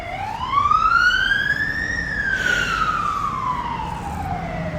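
An emergency vehicle siren passes by, giving one long wail that climbs in pitch and then slowly falls as it moves away. It sounds fairly close over faint background traffic rumble.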